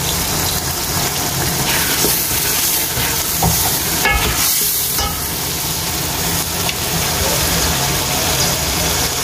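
Peas and turmeric sizzling in a hot pan, a loud, dense, continuous frying hiss with brief stirring scrapes, close up and without speech.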